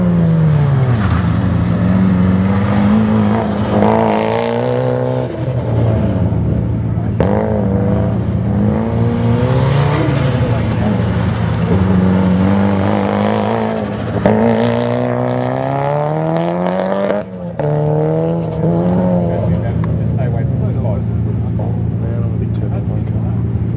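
A Mitsubishi Evo's engine revs and strains loudly and continuously on a skidpan, its pitch climbing and falling as it accelerates, with speech over the top throughout.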